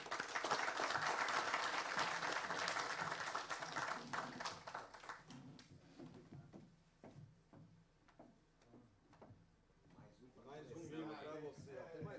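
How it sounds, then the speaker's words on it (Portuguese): An audience at an accounting professionals' gathering applauds a guest: dense clapping for several seconds thins to scattered individual claps, then a speaker's voice returns near the end. "Vamos aplaudir o nosso amigo."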